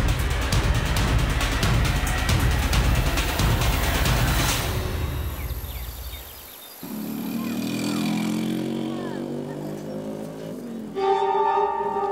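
A car drives along with a loud, rumbling engine and road noise that fades as it slows and comes to a stop, then the engine idles quietly while a musical score rises.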